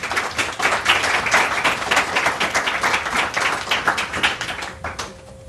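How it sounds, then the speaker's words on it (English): An indoor evening audience at a mayor's community sleepout event claps warmly to welcome the mayor to centre stage, a dense, sustained burst of applause that fades toward the end. "big round of applause."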